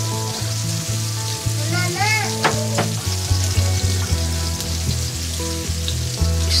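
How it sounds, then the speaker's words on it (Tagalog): Chayote and carrots stir-fried with pork in a hot pan, a steady loud sizzle with scraping stirs and clanks of the utensil against the pan throughout. "Stir fry lang natin sila."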